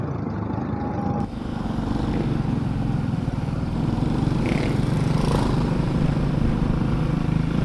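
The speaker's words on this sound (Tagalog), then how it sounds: "So medyo hirap na ang ating motorsiklo." A motorcycle engine labours on the road with a low, steady drone throughout, heard from the rider's position with constant wind noise and no talking.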